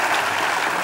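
A packed theatre audience claps in a steady, loud roar of applause for the whole short stretch, with no talking over it.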